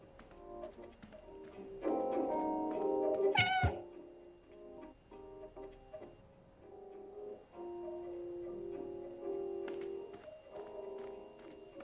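A cat meows in the video game Stray, one rising, wavering call standing out over a steady, tonal game soundtrack that hums along before and after it.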